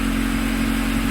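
A Honda Civic EK engine with an aftermarket exhaust gives off a steady, loud, droning tone. The burst is brief and close, with no talk.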